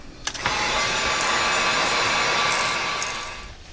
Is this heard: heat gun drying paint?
yes